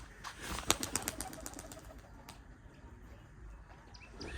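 Pigeons take off from a rooftop loft, giving a burst of sharp wing claps and flapping in the first two seconds that fades into quiet outdoor ambience.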